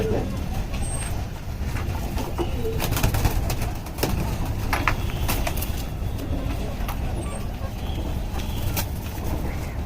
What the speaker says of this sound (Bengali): এই কবুতরগুলো আমি রেখে দিই কারণ এগুলো আমার পাল্লার কবুতর